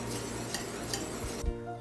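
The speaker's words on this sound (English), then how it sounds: "bring this to a simmer over medium heat and then whisk it constantly" A sauce simmers in a pan on medium heat while being whisked: a soft bubbling hiss with light metallic taps, cut off abruptly after a final clink.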